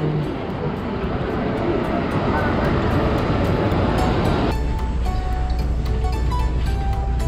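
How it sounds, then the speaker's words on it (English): A train rumbles into a station in Florence, Italy with a loud, steady roar and hiss, then thin metallic squeals appear as it slows. No one speaks. "The train is finally here."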